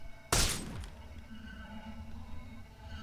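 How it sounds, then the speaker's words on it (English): Glass shattering after a shotgun blast, one sudden loud crash near the start that rings out and fades into a quiet low hum. "The glass shattered and it was thrown backwards."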